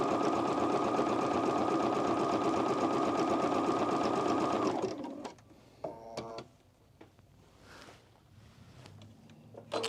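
A sewing machine stitching an oversized plus-size blazer runs in a steady, loud mechanical whir for about five seconds, then stops, leaving faint handling clicks and rustles.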